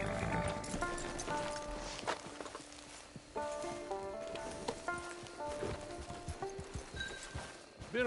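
Horse hooves clip-clopping steadily at a run in the video game Red Dead Online, rhythmic and close, with soft game music and ambience underneath.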